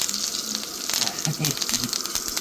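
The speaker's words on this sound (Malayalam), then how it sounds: "ശരിക്കുട്ട അടുത്തത് മീൻ വറുക്കാൻ പോവുകയാണ്." Fish frying in hot oil in a home kitchen for a Kerala-style fried fish, a steady broadband sizzle with faint crackles and a soft voice murmuring underneath.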